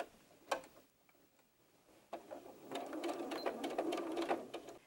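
A sewing machine double-stitches the ends of fabric for 18-inch doll bloomers, quiet bursts of rapid ticking needle strokes with a short pause, then a denser run of stitching.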